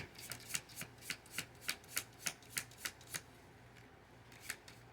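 Tarot cards being shuffled up close, a quick run of crisp, rhythmic riffling flicks followed by a short pause and a few more snaps, soft and without talk.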